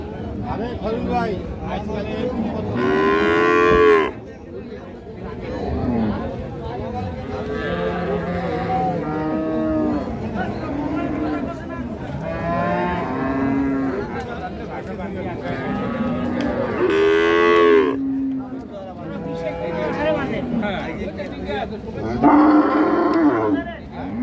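Holstein Friesian cows at a busy cattle market let out several long, loud moos, spaced out over steady crowd chatter and nearby talking.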